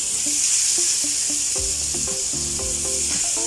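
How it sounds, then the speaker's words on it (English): Chicken pieces frying in very hot oil give a steady, close crackling sizzle throughout, broken by a few short clinks and scrapes of a utensil against the pan. "We are frying the chicken just to get the outer golden crispier crust."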